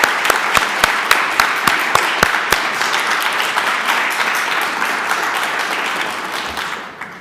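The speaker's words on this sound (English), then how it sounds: "let's give her another round of applause" Conference audience applauding after an honors student's presentation, steady loud clapping with a few sharp close claps early on, holding level for several seconds before fading out at the end.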